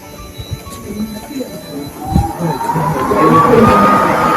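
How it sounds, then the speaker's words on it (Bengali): A train in Austria rumbles nearby with a rising metallic screech of wheels, while people's voices murmur in the background. "দেখুন আমাদের ট্রেন, এই আমাদের ট্রেন"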